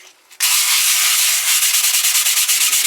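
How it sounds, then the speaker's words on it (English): Two sheets of 180 grit sandpaper are rubbed together after a brief quiet start: loud, close, gritty scratching in a steady stream that breaks into rapid back-and-forth strokes toward the end. "2 sheets of 180 grit, and rub them together a little bit"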